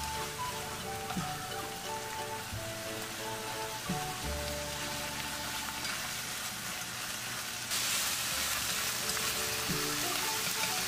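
Seasoned bracken fern stir-fried in a pan over high heat with sauce soaking in, a steady close sizzle with occasional scraping and stirring knocks that grows brighter near the end, with soft background music.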